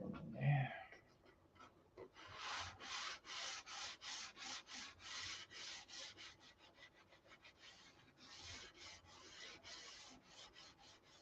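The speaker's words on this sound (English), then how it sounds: "So I'll put a little primer there and sand it again." Hand sanding of primer on a white Viper body panel, a steady run of rhythmic rasping strokes repeating quickly and close, with faint speech-like sounds briefly at the start.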